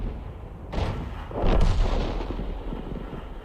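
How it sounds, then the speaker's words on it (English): An artillery shell from a friendly artillery tank lands and explodes in World of Tanks, a deep rumbling boom swelling mid-clip and fading into a low roar, with no talk over it. "That shell just came in from one of our fellow Arties"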